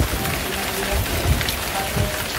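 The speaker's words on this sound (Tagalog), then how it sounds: "So it's raining outside." Steady, fairly heavy rain falls outside on a foggy day, a continuous close hiss and patter of drops on surfaces with no pauses.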